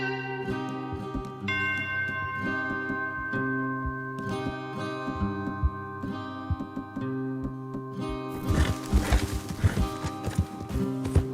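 Horse hooves clip-clop at a steady walking pace in Red Dead Redemption 2, the soft rhythmic thuds running under a sustained game music score that swells near the end.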